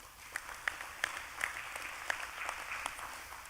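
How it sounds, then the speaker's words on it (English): Faint, sparse clapping follows the presentations at a First Nation band meeting, a handful of distinct claps over a low murmuring room. "Let's give them a nice round of applause."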